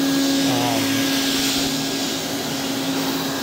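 A 1962 Kenmore Whispertone 90 vacuum cleaner runs close by in a house, giving a steady, loud whirring drone with a fixed motor hum that holds without a break.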